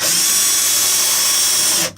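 Power drill driving screws into wood while mounting a tankless water heater in a travel trailer, a loud steady high-pitched motor whir held close up, cutting out abruptly near the end.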